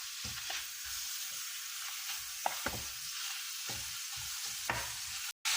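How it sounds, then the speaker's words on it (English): Minced beef frying with chopped onions in a pan, stirred constantly to break up lumps, gives a steady loud sizzle with repeated scraping strokes of the spoon, no voices. "Add the minced beef and stir continuously, breaking up any lumps."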